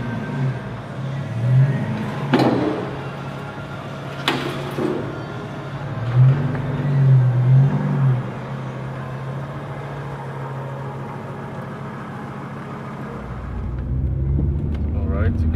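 A Volvo 850 car runs after a clutch and rear main seal repair, its engine a steady low rumble with a few sharp knocks and louder swells, while people talk nearby.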